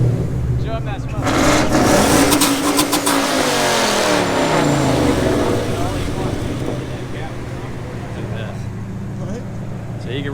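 A rotary-engined car revs loudly at a night car meet, the engine sweeping up and down in pitch with crowd talk and chatter over it.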